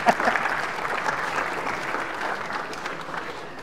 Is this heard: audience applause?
yes